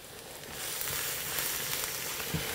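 Chopped onions sizzling and frying in a pan at a cottage kitchen, a steady close hiss that swells after a quieter start and holds with faint crackles, no voices.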